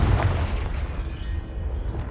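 In Hogwarts Legacy, a Confringo blasting spell explodes with a deep, heavy boom that rumbles and fades over about two seconds, loud and close.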